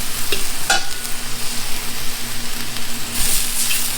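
Noodles tossed and stir-fried for chow mein with oyster sauce, meats and vegetables in a large pan, a steady close sizzle with scraping stirs, a low hum running underneath.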